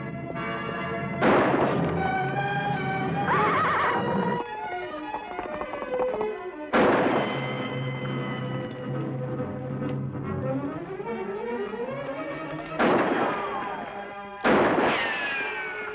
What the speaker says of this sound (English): I wonder who's firing at us.